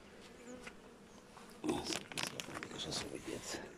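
Honeybees hum steadily at an opened beehive in late March as the nest is being enlarged, a close, continuous buzz that grows denser and louder in the second half, with some handling crinkles.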